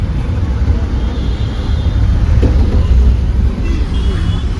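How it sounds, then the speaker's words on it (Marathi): Road traffic in Pune, a dense continuous rumble of passing cars and engines heard from close by, loud and steady with no clear gaps. "पुण्याची ट्रॅफिक"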